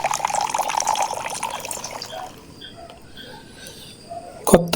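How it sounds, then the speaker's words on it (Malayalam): Water is poured into a simmering ettakoori fish curry. A gushing pour runs for about two seconds, then gives way to scattered drips and a sharp clack near the end. "ആവശ്യത്തിന് വെള്ളം കൂടി ഒഴിച്ചു കൊടുത്തിട്ടുണ്ട്."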